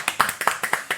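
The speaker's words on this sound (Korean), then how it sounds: "우리 두 장군님의 꿈이 이루어지라고 다 같이 박수 한번." Audience at a Korean military talk event clapping together in a quick, steady rhythm of distinct claps, close and clear.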